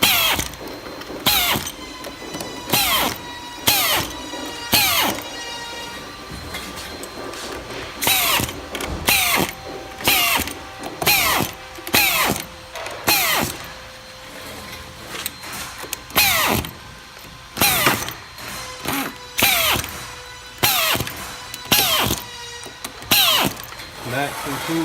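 A door machine driver tightens hinge screws in a door, giving a string of short, loud whirring bursts with brief pauses between them, running close by under occasional talk.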